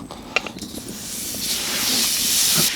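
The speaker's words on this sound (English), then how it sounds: "First things first, we're going to melt some butter." Butter hisses and sizzles in a hot pan over an outdoor fire bowl. The hiss builds to a broad, steady rush, with a few faint knocks at the start.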